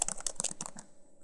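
Quick keystrokes on a computer keyboard, a short rapid run of close clicks that stops after about a second, leaving near silence.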